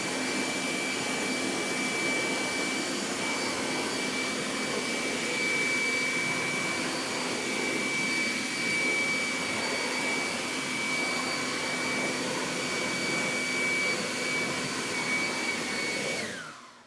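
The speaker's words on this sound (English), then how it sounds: "easy to dry with forced air" Forced-air blower drying the wheels of a ceramic-coated car in winter, a loud, steady whooshing roar with a constant whine that runs unbroken and cuts off at the end, with no talking.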